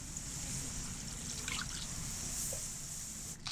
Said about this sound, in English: Pour in milk.